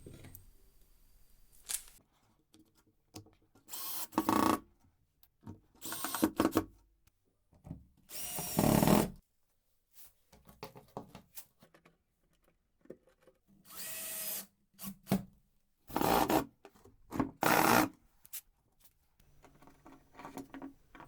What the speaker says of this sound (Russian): Остается взять шуруповерт и при помощи саморезов закрепить две половинки от ящика на стену.